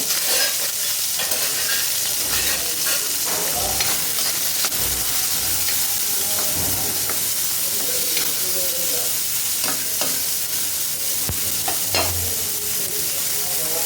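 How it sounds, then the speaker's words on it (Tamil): Onions sauté in oil in a pan for a tamarind curry with cowpeas, a constant loud sizzle and crackle with scraping stirs of a spatula throughout. "வெங்காயம் பூ நல்லா வணக்கணும்"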